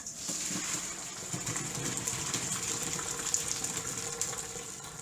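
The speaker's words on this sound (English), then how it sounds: "Time to strain our potatoes." Water from a pot of boiled potatoes poured off through a strainer, a steady broad gushing splash running unbroken for several seconds, close and fairly quiet, with no talking.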